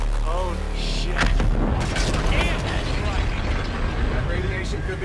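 Weapons fire and explosions in the Call of Duty: Infinite Warfare game, with booming blasts and mechanical clatter filling the whole stretch, loud and dense, while voices talk over the din.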